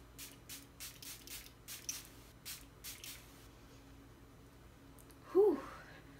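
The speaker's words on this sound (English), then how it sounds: "I'm gonna go ahead and just spray it all over my face" A cosmetic setting spray mists onto a face in a series of quick, soft spritzes, close and quiet, followed by a pause and a brief voice sound.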